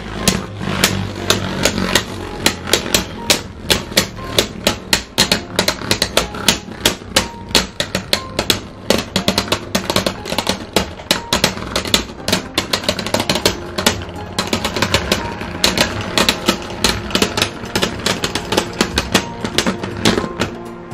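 Beyblade spinning tops, Hell Salamander against Archer Hercules, clashing in a battle stadium: a dense, rapid stream of sharp metallic clicks and rattles, loud and sustained for about twenty seconds.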